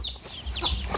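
Chickens cluck in short, close bursts while being fed, several quick calls overlapping in a brief, busy moment.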